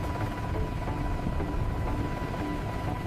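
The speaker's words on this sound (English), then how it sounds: "They used a helicopter to pull the first pilot rope across the 720-meter gap." Helicopter flying over a high-altitude bridge construction site, its steady, dense rotor and engine roar filling the whole stretch continuously at fairly close range, with no talk.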